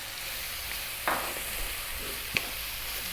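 Fresh chili added to a hot pan of lamb curry with garlic ginger paste, giving a steady, even sizzle of frying with a couple of brief stirring clatters.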